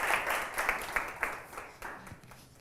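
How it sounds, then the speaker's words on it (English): Audience applause after a presentation at a conference, a dense, moderately faint patter of many hands clapping steadily with a few sharper claps, continuing without talk. "Oh, we can clap first because I didn't hear it coming."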